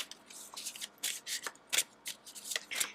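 Tarot cards being shuffled by hand, a run of crisp riffling bursts and soft slaps repeating irregularly across the whole stretch, close and fairly quiet with no voice.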